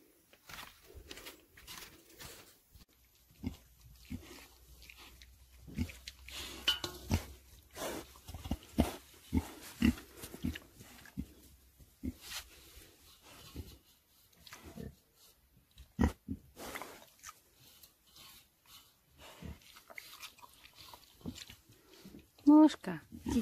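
A pig on a forest farmstead gives short grunts and soft squeals, quiet and intermittent, with people talking throughout.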